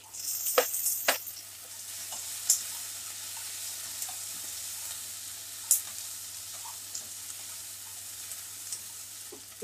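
Capsicum and roasted peanuts sizzle in a pan while vegetable vermicelli pulao cooks, a steady soft frying hiss broken by occasional sharp clicks of stirring, fairly quiet and close, with no talking.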